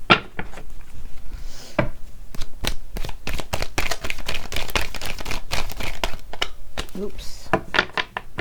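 Tarot cards being shuffled and drawn make a quick run of dry, crisp clicks, slaps and soft thumps, close by and fairly steady, with brief pauses between bursts.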